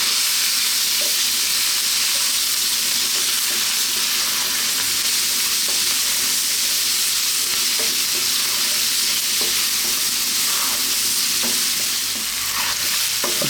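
Potatoes sizzle loudly in a pan over lively heat with chili flakes, a constant dense frying hiss punctuated by the scrape and clatter of near-continuous stirring, close up and with no talking.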